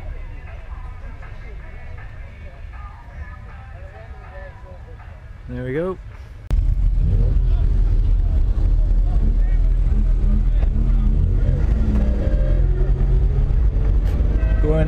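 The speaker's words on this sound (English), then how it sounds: "engine started here" A classic Mini's engine idles at a park before a North Devon Mini run, then loudly revs up as the car drives off with a heavy, close rumble, with a brief spoken remark over it.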